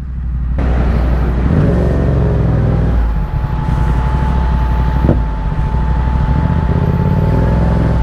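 A motorcycle rides through traffic near Gabaldon and Dingalan, its engine loud and steady at close range, with a low rumble of surrounding vehicles and a brief surge midway.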